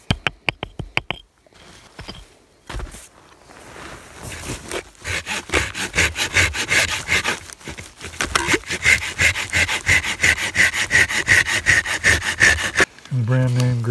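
A Gerber saw blade cuts through wood outdoors during wilderness survival training, starting with a few sharp clicks before settling into loud, rhythmic back-and-forth rasping strokes, with occasional talk nearby.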